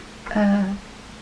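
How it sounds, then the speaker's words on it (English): A single short meow from a whining male cat, close by, rising briefly and then fading against a quiet room background. "My cat is whining"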